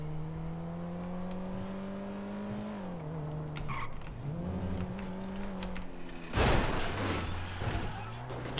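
A car in the GTA RP video game drives along with steady engine drone that dips and rises as it turns, then a loud burst of tire skidding near the end, with some talk.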